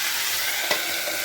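Pumpkin poriyal sizzles and crackles steadily in a hot pan, with a brief scrape of stirring midway.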